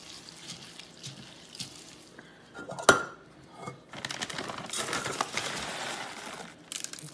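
Bird seed mixture being stirred in a bowl for homemade Easter ornaments, giving gritty, crinkly scraping and rustling, with a sharp clack near the middle and denser, louder stirring in the second half.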